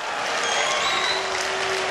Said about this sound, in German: Also nochmal Applaus für Style jetzt hier, bitte.